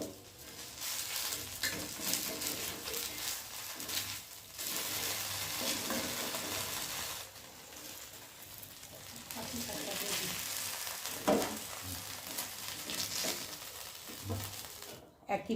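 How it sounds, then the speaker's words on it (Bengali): Patishapta pitha fries in a little ghee, a soft, steady sizzle with light stirring and crinkling sounds, close but quiet, rising and falling in waves. "অল্প একটু গাওয়া ঘি দিয়ে পাটিসাপটাটা ভেজে নেওয়া হচ্ছে।"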